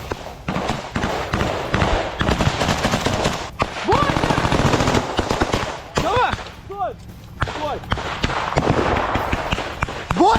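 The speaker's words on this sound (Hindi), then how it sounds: "यूक्रेन की स्पेशल फोर्स मशीन गन से गोलियां चलाते हुए आपको दिखाई दे रही होंगी" Machine-gun fire from Ukrainian special forces near Bakhmut rattles in rapid repeated bursts and scattered shots, loud and continuous, with a voice talking over much of it.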